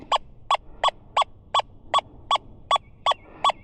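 Ten short, evenly spaced electronic beeps from a metal detector, clear and close, repeating at a steady quick rhythm.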